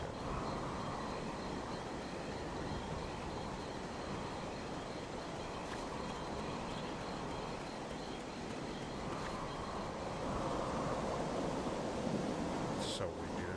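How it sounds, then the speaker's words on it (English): Steady gusting wind blows through a dark, windy video game scene, a constant broadband rush with a few faint clicks and no break. "I do like how dark and windy it is,"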